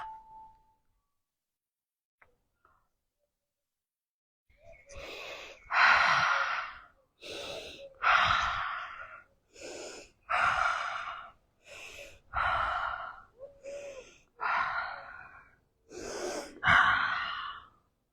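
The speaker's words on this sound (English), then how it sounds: "6 breaths." Slow, deep breaths repeat during a head tension release exercise, about six long inhale-exhale cycles in a quiet room, each a strong, close, airy rush separated by short pauses.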